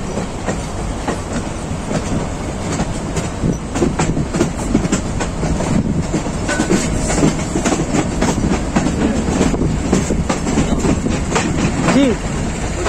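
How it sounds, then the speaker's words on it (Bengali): The Sonar Bangla Express, leaving Kamalapur station in Dhaka for Chittagong, rumbles along with loud rhythmic clickety-clack of wheels, heard from a carriage one coach behind the locomotive. "আজকে লোকোমোটিভের সেই সাউন্ড আসবে"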